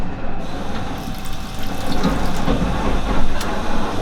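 Cold water runs steadily from a tap at the back of a sleeper train carriage, a close rushing splash with a faint low rumble beneath and no talking.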